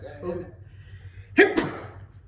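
A single sharp sneeze bursts out near the mic after a moment of quiet, following some brief soft talk.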